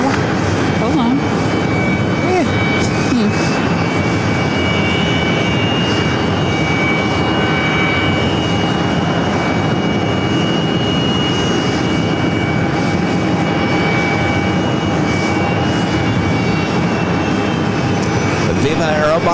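A Viva Aerobus Airbus A320neo sits lined up on runway 31 left at JFK, its jet engines giving a loud, steady roar throughout with a faint high whine, while people talk over it.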